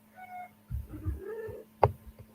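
A house cat gives a couple of short, close meows indoors, the first one brief and the next drawn out, followed by a sharp knock and quiet room noise.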